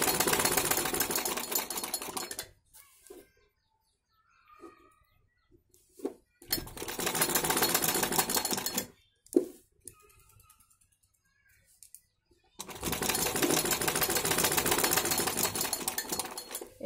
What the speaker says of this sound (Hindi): सीधी साइड से इसके ऊपर सिलाई लगा रहे गले के पास पास